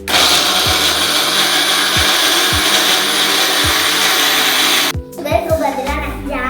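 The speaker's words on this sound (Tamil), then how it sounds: "எல்லாத்தையும் போட்டாச்சு. நம்ம பிளெண்ட் பண்ணிக்கலாம்." A blender whirs loudly and steadily while blending drink ingredients, with soft knocks underneath, then cuts off abruptly, leaving a voice talking.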